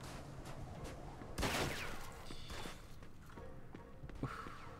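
Gunfire in Mafia II during a prison shootout, a burst of shots with a loud broadband crack near the middle followed by scattered thuds and lighter pops against a noisy game background.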